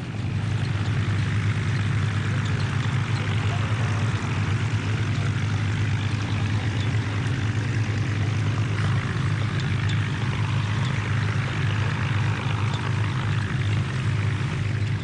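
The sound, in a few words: Rolls-Royce engines of WWII Hurricane and Spitfire aircraft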